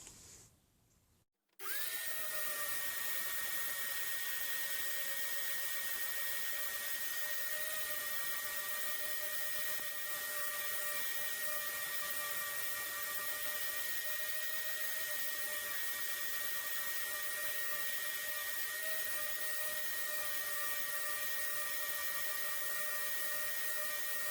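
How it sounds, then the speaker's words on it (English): An orbital sander runs steadily on a wooden garden sign, taking off excess dried paint; a loud, continuous whining drone with a sharp start after a brief quiet moment, holding even for the rest of the clip with no talking. "I've finished with the orbital sander now"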